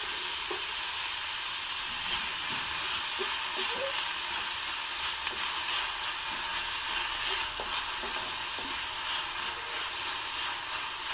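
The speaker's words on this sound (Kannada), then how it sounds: "ಹೀಗೆ ಚೆನ್ನಾಗಿ ಫ್ರೈ ಮಾಡ್ತಾ ಇರಬೇಕು" Ingredients for a traditional kayi gojju sizzle in a pan with a dense, continuous hiss at a steady level, broken by faint stirring scrapes throughout.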